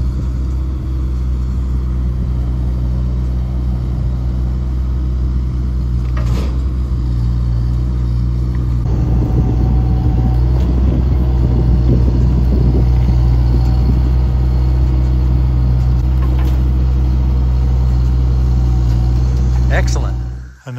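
A PJ dump trailer unloads a load of red cedar logs behind a tractor, a loud, steady engine rumble with a clattering, scraping surge of the load sliding out midway, continuing until it cuts off at the end.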